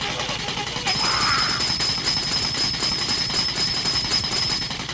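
Train rumble and rolling clatter from the Ape Escape video game, a steady mid-loud passing roar with a thin high whine over it and faint voices underneath.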